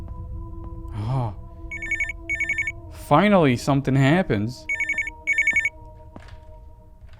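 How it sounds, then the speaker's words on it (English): A telephone rings in the survival horror video game Unnerving, sounding in repeated short bursts of bright electronic trills, with someone talking over and between the rings. "Yeah, answer the phone."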